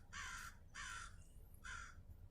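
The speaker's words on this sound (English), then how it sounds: "where that bird sings right there" A bird outdoors giving three loud, harsh, crow-like caws, evenly spaced over about two seconds, against a low steady background rumble.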